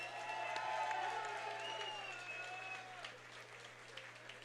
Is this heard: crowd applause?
yes